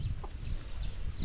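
Chickens and chicks clucking on a farm, with soft high chirps and low clucks scattered over a steady outdoor background, fairly close and continuous with no talk.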